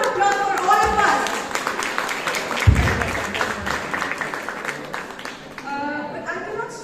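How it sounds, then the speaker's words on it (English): Students and teachers clap during a school farewell speech, scattered uneven applause with some cheering and chatter, fairly close, rising and thinning over several seconds. "Let's have a huge round of applause for all of us."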